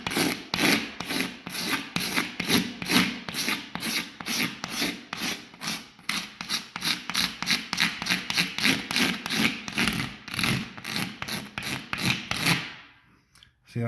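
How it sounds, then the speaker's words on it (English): Razor blade scraped repeatedly across drywall compound during a housing complex renovation, feathering the mud with a steady run of close, raspy strokes, about two per second, that stop near the end. "Some spots you're gonna have to use a sander, but for the most part, you just use a razor."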